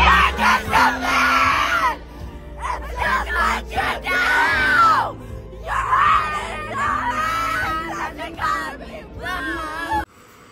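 Concert crowd at Coachella screaming and singing along, loud sustained shrieks and yelling voices in waves that fill the scene, cutting off abruptly near the end.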